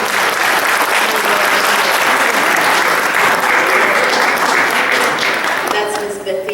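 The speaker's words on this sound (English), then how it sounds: "Give a round of applause." Audience applause at a talk about Joseph E. Lee, Jacksonville's first Black lawyer, a loud, dense, sustained round of clapping from a room of people that tapers off at the end.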